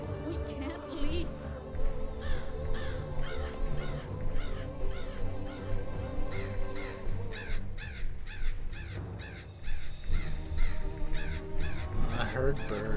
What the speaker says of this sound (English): I heard birds.